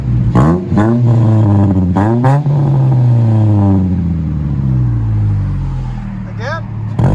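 A 2009 Mitsubishi Lancer four-cylinder with a DTM muffler exhaust revs hard several times in quick bursts, loud and close, with a sustained high rev through the middle before settling back.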